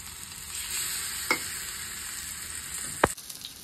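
Bitter gourd slices fry in oil in an iron pan, giving a steady close hiss with two sharp clinks of a utensil against the pan.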